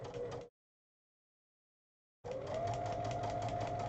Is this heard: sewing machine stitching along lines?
yes